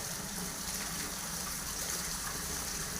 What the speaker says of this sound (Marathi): साऱ्यात मोठा झरा ती समोरचा बघा